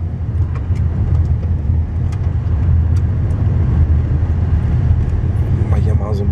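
A car cruising along a road in North Cascades National Park, USA, heard from inside as a steady, loud low rumble of engine and tyres that holds unbroken throughout, with faint voices underneath.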